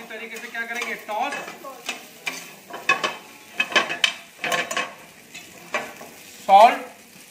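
Spaghetti aglio olio being tossed in a hot pan, a run of irregular scraping, clattering stirs over a faint sizzle, with a louder rattling toss near the end.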